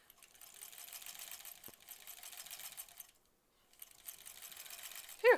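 A sewing machine stitching quilt blocks in quick, steady bursts of rapid mechanical clatter, pausing briefly between seams, with a small sharp snip or click at the end; fairly quiet and close.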